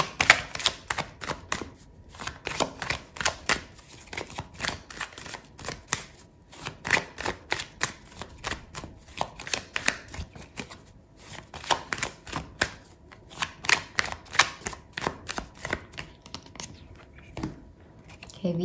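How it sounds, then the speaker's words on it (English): Tarot cards shuffled and pulled: rapid, close riffling and flicking, with dense clusters of crisp card snaps repeating steadily through the whole stretch, no talking. "I'm gonna pull out another card for you"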